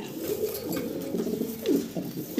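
Caged pigeons, mostly sitting on eggs and chicks, coo in low, throaty rolling calls that overlap continuously, close by.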